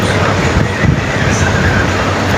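A train passes close by, making a loud, steady roar and rumble that fills the whole moment without a break.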